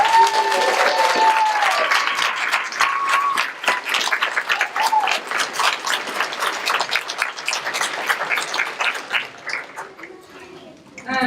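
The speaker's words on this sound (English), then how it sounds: "Let's give our graduates a round of applause." Audience at a 2017 GED graduation ceremony applauds the graduates, a dense, sustained clapping that holds steady before thinning out near the end, with some voices mixed in.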